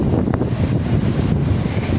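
Sea waves wash below a temple at Kanyakumari under strong wind buffeting the microphone, a steady, loud roar with no voices.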